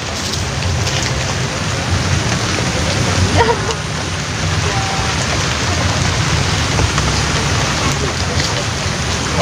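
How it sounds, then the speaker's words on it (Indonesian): Heavy rain falling during fishing at Setu Srike, a lake, as a dense, steady hiss that fills the whole clip at close range with no breaks. "Ini hujan cukup deras"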